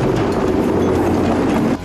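A train passing on the track, a loud, steady rumble with rolling wheel noise close by, holding level for the whole span before dropping off at the very end.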